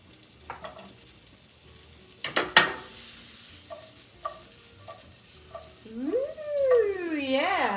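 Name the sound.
gnocchi frying in a pan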